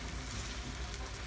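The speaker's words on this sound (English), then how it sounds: "We're still frying the onions here" Chopped onions fry in a pan while cod is prepared Mexican style, giving off a steady, soft sizzle and crackle with no talking over it.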